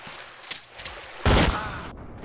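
A single loud burst of gunfire from a game of Garry's Mod Trouble in Terrorist Town rings out near the middle, following a few faint clicks.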